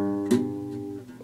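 One acoustic guitar strum with two fingers fretted on the lower strings, a basic chord shape being formed, ringing out alone and decaying over about a second.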